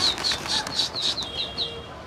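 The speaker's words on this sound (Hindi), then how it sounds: "देखिए भाई उड़ रहे कबूतर" Pigeons taking off and flying, a flock freshly released: a rapid run of about eight crisp wing-flap bursts in steady rhythm, loud and close at first, then thinning out, with no voices.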